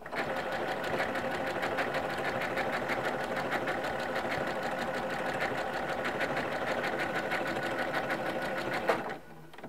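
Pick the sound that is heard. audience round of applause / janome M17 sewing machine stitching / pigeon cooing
janome M17 sewing machine stitching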